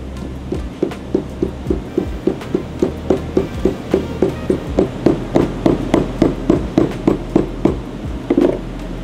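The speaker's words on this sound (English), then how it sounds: "I'm gonna take my hammer, make sure it's nice and soft so you're not ruining the deck surface." A soft-faced hammer taps wire down onto the deck surface of a diesel engine cylinder head during a rebuild, giving a steady series of about twenty close, evenly spaced light knocks.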